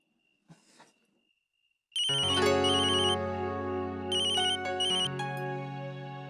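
A phone ringtone in a Hindi TV drama bursts in after a short, nearly silent lead-in with a few soft rustles, then plays loud and steady as a bright, repeating electronic melody to the end.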